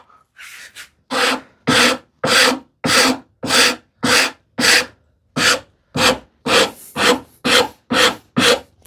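A hand-stitched rasp files wood in a hand-tool woodworking project for a shoe tidy, making about fourteen rough, rhythmic scraping strokes close up, loud and evenly spaced, with no talking.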